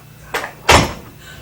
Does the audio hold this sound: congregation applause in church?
no